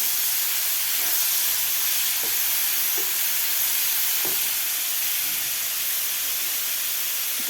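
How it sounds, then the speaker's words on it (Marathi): Chopped tomatoes fry in a pan for a restaurant-style veg Kolhapuri, giving a continuous close hiss and sizzle with a few faint clicks and no talking. "टोमॅटो चांगलं सॉफ्ट होईपर्यंत आता आपलं टोमॅटो भाजून घ्यायचं आहे"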